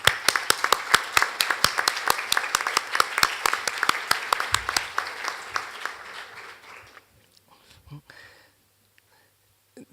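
An audience at a forum talk on religion, culture and dignified death claps in a brisk, fairly even rhythm, loud and close, then fades out after about seven seconds into near-silence with faint voices.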